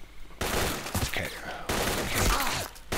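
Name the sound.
gunfire in the video game S.T.A.L.K.E.R.: Call of Pripyat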